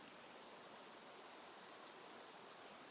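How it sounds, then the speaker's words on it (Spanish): A stream flowing in Argentina, heard as a steady, dense rush of water that continues unbroken throughout with no voices over it. "se escucha el ruido del agua"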